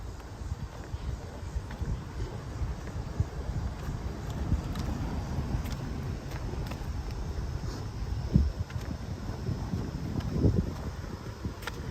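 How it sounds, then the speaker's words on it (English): Continuous low, blustery wind rumble buffeting the microphone on an autumn park walk, steady throughout with a couple of stronger gusts. "Probably hear the wind blowing."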